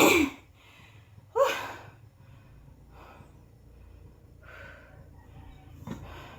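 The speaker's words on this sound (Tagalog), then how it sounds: "Pasensya na po, hinihingal po ako guys." Heavy breathing and gasping from a person winded after exercise, a few loud breathy bursts near the start followed by fainter panting breaths, with no speech.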